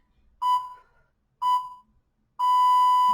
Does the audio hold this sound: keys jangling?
no